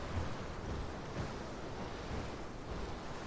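A dinosaur swims through water in the video game Path of Titans, a steady broadband wash of churning water and rushing noise that holds evenly throughout, with no voices.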